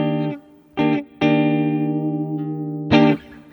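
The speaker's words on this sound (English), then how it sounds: "Our first algorithm today is the plate. It's based on Studio Plate Reverb." Guitar chords ring through the plate algorithm of an Alexander Space Force reverb pedal, a tight studio-style plate with tape pre-delay, in four short strummed bursts whose sustained tones decay quickly.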